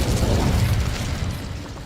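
Incendio fire spell cast in Hogwarts Legacy, a dull booming burst of flame that swells briefly and then rumbles down into a low, steady roar.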